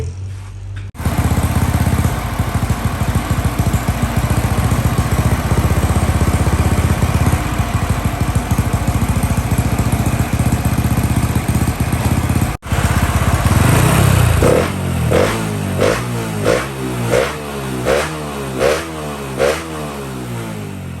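A freshly built 110i motorcycle engine with a 4-valve head drones steadily at idle during its run-in, loud and close, then shifts into uneven revving with rising and falling pitch.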